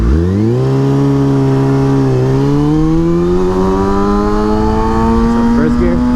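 A motorcycle engine holds a loud, steady tone close by. Its pitch dips briefly as the clutch is let out and the rider shifts up, then it climbs smoothly under load again, with no gaps in the sound.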